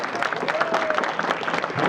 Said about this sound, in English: A round of applause for Purpose.